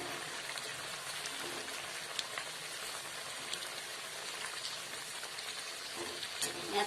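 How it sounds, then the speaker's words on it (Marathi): Kobi vadi, crisp cabbage fritters, frying in hot oil, giving a steady, fairly faint crackling sizzle throughout with occasional small pops and no talk. "मी तळून घेते दोन्ही बाजूनी."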